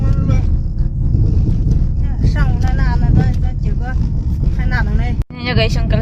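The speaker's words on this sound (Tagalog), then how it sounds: "Kaya ang ingay ng sasakyan." A car travels along a rural road in China, its steady low road-and-engine rumble running continuously beneath people talking inside the cabin.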